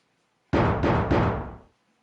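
Pounding on a thick steel door in the video game Zero Escape: Virtue's Last Reward: three heavy, close, booming blows in quick succession, loud and alone against near silence.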